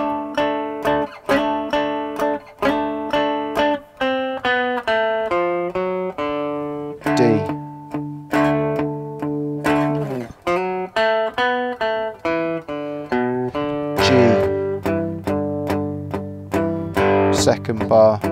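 A three-string cigar box guitar plays a rock and roll intro riff, with bright, twangy, fast-picked double stops and a steady, driving rhythm, close and loud, ending on sustained ringing chords.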